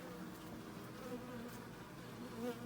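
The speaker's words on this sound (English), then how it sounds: "see the bees up in there?" Honeybees fanning at their colony entrance produce a low, steady buzzing drone with slight swells in pitch, close and continuous, with no voices.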